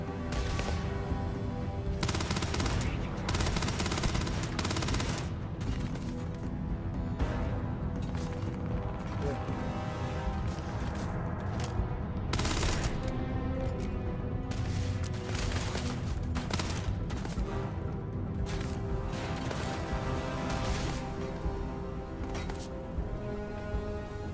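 Gunfire in Starfield comes in repeated loud bursts of shots and mechanical clatter, spread across a long stretch of combat, with a voice talking intermittently over it.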